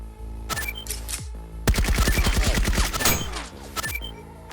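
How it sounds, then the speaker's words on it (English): Rapid volley of rifle shots fired in quick succession, loud and close, with scattered single cracks before and after the main burst over a musical backdrop. "the other follows up with a barrage of rifle fire"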